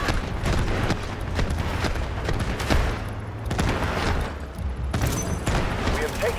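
Gunfire erupts in the Delta Force video game, with rapid bursts of shots and heavy booms in a busy firefight while players talk over the action.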